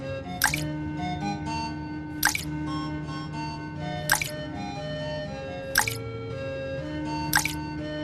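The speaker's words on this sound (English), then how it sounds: "He went and picked up one stone at a time and put it in the pitcher." In an animated children's moral story, stones drop one at a time into a water pitcher, each making a bright plunking drip. Five evenly spaced plops sound about every two seconds over a soft musical backing.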